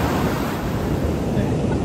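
Big waves roll in on a beach by the dunes after a hurricane, a steady, loud roar of surf mixed with wind buffeting across the brief stretch.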